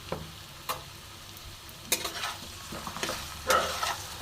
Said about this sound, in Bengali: এবার আমি সেদ্ধ করে ভেজে রাখা আলুটা দিয়ে দিলাম।